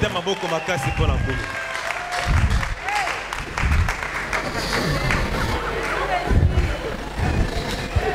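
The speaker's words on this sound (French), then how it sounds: "Acclamons très fort pour les rois." A church congregation applauds the kings during a sermon, a broad rolling wash of clapping and crowd noise with shouting voices over it, dense and loud throughout.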